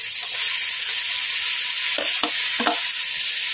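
Beef filling for kanto-style beef pares sizzles steadily in a pan while a utensil scrapes and stirs through it in a few brief, close strokes near the end; no voices.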